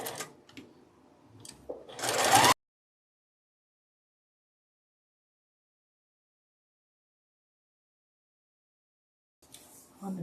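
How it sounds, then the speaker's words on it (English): A home sewing machine stitches a quarter-inch seam on a scrappy friendship star quilt block, a short close whirring run in the first couple of seconds, then silence, with a brief burst returning at the end. "line up our corners and then sew with a 1/4 inch seam"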